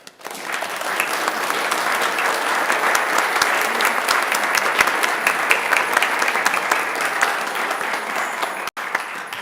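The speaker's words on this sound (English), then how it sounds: "Would we please give our pageant players a round of applause?" An audience at a Unitarian Universalist Christmas pageant gives the players a round of applause, loud dense clapping that holds steady for several seconds before cutting off near the end.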